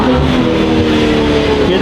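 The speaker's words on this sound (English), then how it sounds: "Combined with the Cell Catted Downpipes and this new HFD configuration with the valve rear, you get massive flexibility, no drone, a really exotic pitch." BMW G80 M3 exhaust fitted with a Valvetronic HFD midpipe, valved rear and catted downpipes, a loud, close, steady rumbling drone lasting a couple of seconds.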